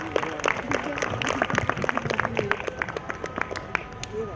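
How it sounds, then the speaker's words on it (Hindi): An audience at a cricket final ceremony on a ground claps loudly, sharp individual claps crackling through a busy crowd murmur, with voices talking underneath throughout. "जोरदार तालियों के साथ"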